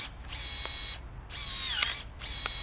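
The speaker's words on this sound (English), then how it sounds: "sometimes you're trimming big branches like this" Milwaukee M18 telescoping cordless pole pruner running in short bursts with a high motor whine, cutting through a branch over an inch thick, close and fairly loud with brief pauses between runs.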